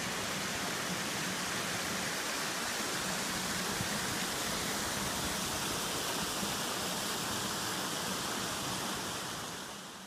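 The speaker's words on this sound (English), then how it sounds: "I set up camp next to a small waterfall that connected the Twin Lakes" A small waterfall between twin lakes in snowy mountain country at night gives a steady, dense rush of falling water, close and unbroken, with a slight fade at the very end.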